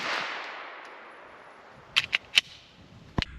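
A B&T Hush Puppy suppressed pistol, a modernized Welrod, firing subsonic ammunition: a few sharp, muffled snaps in quick succession, then one more heavier thump, all fairly close and isolated.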